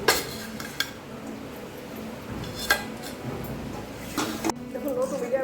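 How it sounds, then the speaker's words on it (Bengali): A spoon stirs dates and other ingredients in a pan over low to medium heat to make date laddu, giving soft scraping and a few clear metallic clinks against the pan, faint and close with low background noise. "লো টু মিডিয়াম হিটে 4-5 মিনিট ধরে নাড়াচাড়া করতে করতে খেজুরটা আমার কিন্তু নরম হয়ে গেছে"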